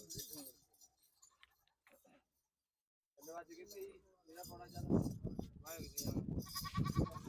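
Goats bleat at the Ralli goat market, with several cries rising among loud, busy talk from people nearby after a brief quiet stretch.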